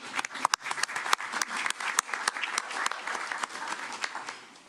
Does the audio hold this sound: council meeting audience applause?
yes